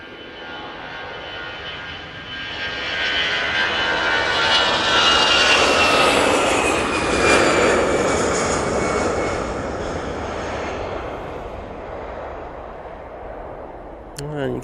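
A jet airliner departing Manchester Airport at full thrust roars loudly and builds to a broad, rumbling peak around the middle before slowly fading into the distance, with no voices.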